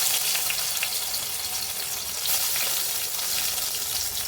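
Slices of pointed gourd (potol) fry in hot oil, a loud, steady, crackling sizzle that carries on evenly throughout.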